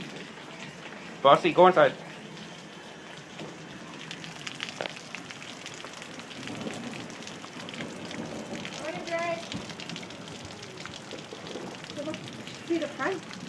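Heavy rain pours down steadily on a rainy day in Prince Albert, a broad continuous hiss close by, with people talking over it and a few louder bursts of voice.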